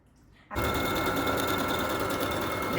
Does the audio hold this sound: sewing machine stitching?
yes